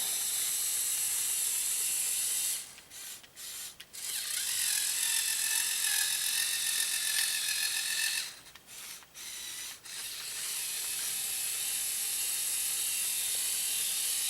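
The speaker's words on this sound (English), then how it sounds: "Main motor is an XL. Steering is a medium motor. Plenty of power." Electric motors on a modified Lego Technic 6x6 tow truck, an XL drive motor and a medium steering motor, whir and grind with a gritty mechanical buzz, stopping and starting in short bursts, close up.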